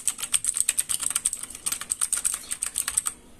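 Rapid typing on a Kumara mechanical keyboard fitted with Akko keycaps, a steady run of crisp, close clacks in an uneven rhythm that stops near the end, with no voices.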